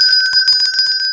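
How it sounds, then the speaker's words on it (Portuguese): A bright notification bell chimes in a quick series of ringing strikes over about a second, loud and alone with no talk. "O sininho ativado é a melhor opção."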